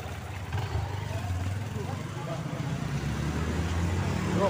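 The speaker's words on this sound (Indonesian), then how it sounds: "Awas mobil, awas motor, motor mau keluar." A car and a motorbike go by on a road, a steady low engine rumble and traffic hum that swells slightly as they pass, with people talking nearby.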